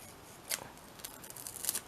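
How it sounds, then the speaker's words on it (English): Old scissors snip through material, two or three sharp, close cuts with faint rustling between them, quiet and alone without talk. "I need to cut this. Oh, I need my old scissors."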